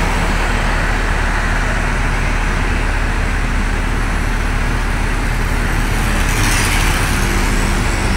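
Trans Jakarta buses with Mercedes, Scania and Volvo engines move through dense early-morning rush-hour traffic on a Jakarta corridor, making a continuous loud roar of engines and road noise with a brief hiss near the end and no voices.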